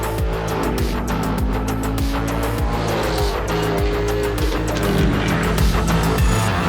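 Supercars race fast past a field, engines roaring and tires squealing in a string of quick pass-bys, loud and steady with no voices.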